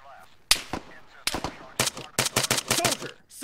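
Loud bursts of automatic rifle fire from the ArmA 3 video game, several rapid volleys cracking close by with brief pauses between them.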